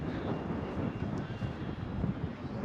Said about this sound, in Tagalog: Marinig nyo, kala nyo ulan, pero hangin pala yan